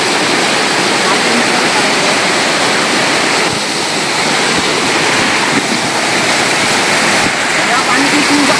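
A stream in a Konkan forest flows with a steady, broadband rush of water, loud and constant, with no clear pauses.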